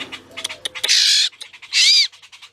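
Parent birds call from nearby trees while their baby is fed outdoors in a food forest: two loud, harsh, drawn-out cries rise above softer chirps and scattered rustling.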